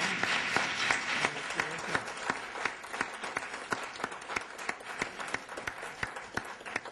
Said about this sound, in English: Let's have a round of applause for our wonderful panel.